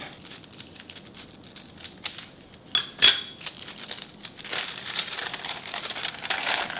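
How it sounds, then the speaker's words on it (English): Parchment paper is cut to size for a steamer liner in a home kitchen, with faint, intermittent crinkling and a few sharper snips against quiet room tone. "And I'm using this parchment paper. This size is large, so I like to cut it."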